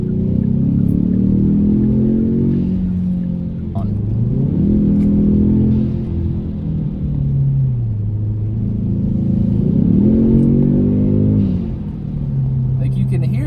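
Kia Stinger engine rumbling at low pitch with a few rising and falling revs, close and loud, continuous for over ten seconds.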